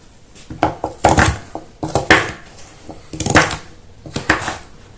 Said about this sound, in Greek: Εγώ θα τις κάνω σε κυβάκια αυτού εδώ του μεγέθους για να μου βράσουν γρήγορα